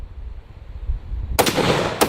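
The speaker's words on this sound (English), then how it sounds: "For our 300 Win Mag, we have a Nemo Nightmare 300 Win Mag." A Nemo Nightmare rifle in .300 Win Mag fires 175-grain rounds: two loud, close, sharp shots, the first ringing out and the second following about half a second later, after a stretch of low background rumble.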